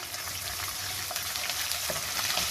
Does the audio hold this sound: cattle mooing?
no